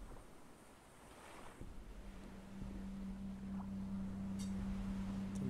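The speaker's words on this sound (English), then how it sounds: "Them waves are intense." Ocean waves and wind in the Stranded Deep survival game, a steady broad rushing wash that swells gradually louder with a low droning hum underneath, no voices.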